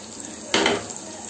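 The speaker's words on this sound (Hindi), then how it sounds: "हमारा तेल गर्म हो चुका है। हम इसमें एक चम्मच उड़द का दाल डाल देंगे" Urad dal and two red chilies dropped into a spoonful of hot oil in a pan give a sudden close sizzle that bursts in and fades after a moment, with no talking.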